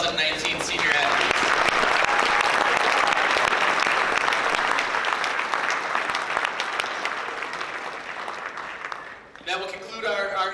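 Banquet audience applauding senior athletes, sustained loud clapping from a crowd in a hall for about nine seconds before tapering off, then a voice speaking.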